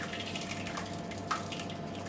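Six litres of water poured in for Neapolitan pizza dough, a steady, moderately loud splashing gush that runs continuously with no voices.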